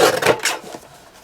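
Cardstock trimmed with a paper trimmer gives a few close, quick scraping and sliding strokes in a short burst that fades into quiet, with no voices.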